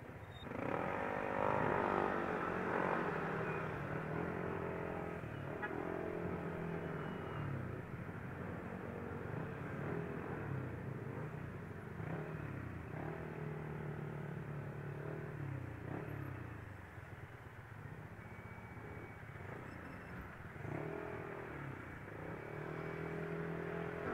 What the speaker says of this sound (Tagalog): Medyo traffic ngayon dito sa Baguio, kahit weekdays.